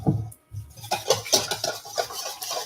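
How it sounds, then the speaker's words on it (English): An egg mixture is whisked in a bowl, giving quick clinking taps of the whisk against the side that come in a steady, close rhythm with no voices. "we're gonna whisk it because we want to make sure we break up that egg and mix it very, very well"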